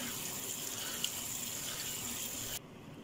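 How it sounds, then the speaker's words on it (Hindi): Cooked rice being rinsed with cold water in a kitchen sink: a steady, fairly loud rush of running tap water that cuts off abruptly near the end, with no talking. "अब मैं इन्हें निकाल लेती हूँ, ये पानी निकाल के ठंडे पानी से हल्का निथार लेती हूँ।"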